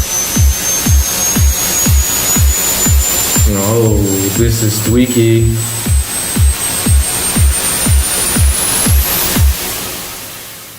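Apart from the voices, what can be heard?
synthesized noise riser sweeping upward in pitch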